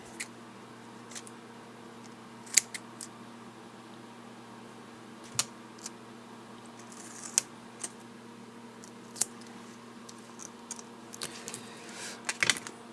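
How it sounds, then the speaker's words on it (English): Small snips and clicks of cutting tape during a touch screen digitizer repair on a Garmin Nuvi GPS, scattered sharp ticks spaced a few seconds apart over a low steady hum, close and quiet. "I'm gonna need to cut this."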